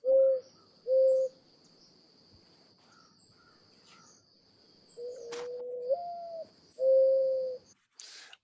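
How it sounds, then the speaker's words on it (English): A mourning dove's soft, mellow coos in short phrases, a pair followed by a longer drawn-out series, against a faint steady insect trill. "the beautiful mourning dove"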